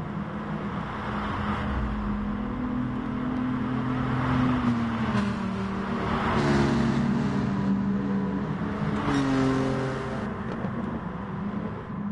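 Gr.4 race cars lap Suzuka in Gran Turismo Sport, with several engines droning and revving together in a continuous, fairly loud mechanical roar. The pitch rises and falls as the cars accelerate and shift, and no voices are heard.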